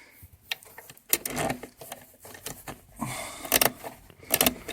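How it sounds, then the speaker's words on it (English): Ratchet spanner clicking as it turns the handbrake adjuster on a Vauxhall Opel Combo, a series of sharp close metallic ratcheting bursts in irregular runs with brief pauses. "Really handy, these ratchet spanners."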